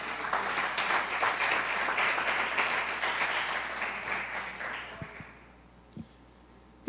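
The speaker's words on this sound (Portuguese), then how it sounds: "Será que você pode dar uma salva de palmas ao Senhor?" A church congregation at an evening service gives the Lord a round of applause: dense, sustained clapping from many hands for about five seconds, then fading out into near silence broken by a couple of faint knocks.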